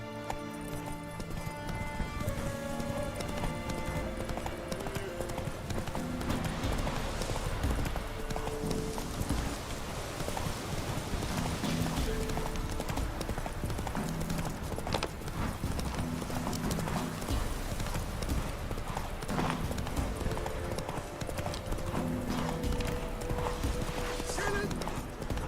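Roach, a horse in The Witcher 3, galloping with a rapid, steady clip-clop of hooves throughout, mixed with game music and an occasional whinny, no talking.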